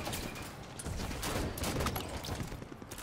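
Rapid bursts of shotgun and mixed gunfire from a Blaze of Glory shotgun in the Halo 5 Warzone video game, a dense, loud, continuous firefight with no talking.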